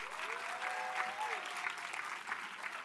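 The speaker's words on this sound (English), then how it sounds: "let's make a big round of applause for the nominees" A video game awards audience applauds the nominees, a brief, fairly soft wash of clapping heard at a distance with a faint tone gliding through it.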